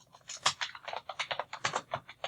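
Rapid keystrokes on a computer keyboard while entering R code, an irregular run of close, crisp clicks filling the whole stretch with no talking.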